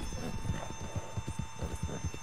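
A horse in Red Dead Redemption 2 walks at an easy pace, its hooves clip-clopping in a steady rhythm over quiet ambient game sound, with no talk.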